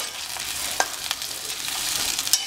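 Chilli chicken with halved green chillies sizzles steadily in a pan while being stirred, the continuous frying hiss broken by a few light spoon scrapes and clinks, heard close with no voices.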